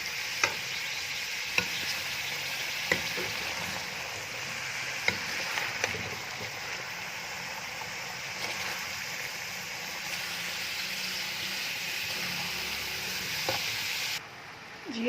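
Moringa pods (sohanjana) being stirred into a simmering chicken curry in ghee-rich masala: a soft, continuous sizzle with scattered spoon scrapes and clicks against the pot, fairly quiet and close.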